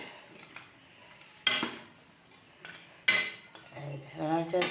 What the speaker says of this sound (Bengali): এখন আমি এই যে গরম মশলা বাটাটা দিয়ে দিলাম, পরিমাণ মতো বেটে রেখেছিলাম এটা দিয়ে দিলাম। একটু নাড়াচাড়া দিয়ে দিলাম